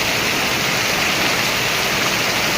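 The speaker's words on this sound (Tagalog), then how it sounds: "Lakas ng ulan mga kaibigan." Heavy rain from Typhoon Inday pours down in a dense, unbroken roar, loud and close, with no pauses or other sounds breaking through.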